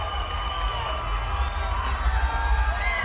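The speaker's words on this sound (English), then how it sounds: "And the crowd celebrates with Bam Bam Rios." Boxing arena crowd roaring and cheering for lightweight Brandon 'Bam Bam' Rios after his win over Miguel Acosta, a dense, steady wall of whoops and shouts filling the hall throughout.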